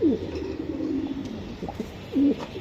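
A racing pigeon being handled gives soft coos, a few low throaty calls close by, with a brief pause between them against a quiet room background.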